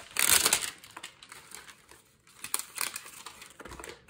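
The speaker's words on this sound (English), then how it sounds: "So we'll take a plastic off these first." Plastic wrap peeled off Magic the Gathering booster packs, a burst of close crinkling and crumpling at the start, then quieter intermittent rustles and tearing sounds.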